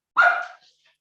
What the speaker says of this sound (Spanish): perdón el perro.